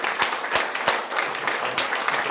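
A room full of guests at the All Sports Association 2019 Hall of Fame Luncheon claps together, giving a short, dense burst of applause with a few sharper individual claps standing out.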